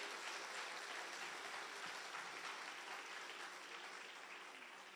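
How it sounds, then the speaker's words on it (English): An indoor audience at a book release in a convention center applauds steadily for about five seconds, a dense even wash of clapping that slowly fades slightly toward the end. "Please give him a big round of applause."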